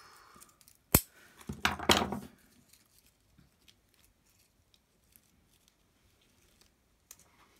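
Paper being cut with scissors for a shabby-style card: one sharp snip followed by a short burst of quick cuts nearby, then near silence with faint small clicks.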